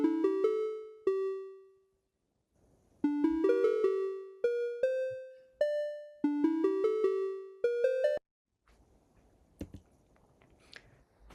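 A Thai khong wong yai gong circle is struck note by note in a lively run of bright, ringing metallic tones that decay quickly. The playing pauses briefly, resumes, then gives way to faint shuffling noise.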